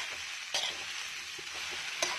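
Spices frying in oil in a pan while being stirred, for a vegetable dish: a steady close sizzle with a few soft scraping strokes and light clicks, no voices.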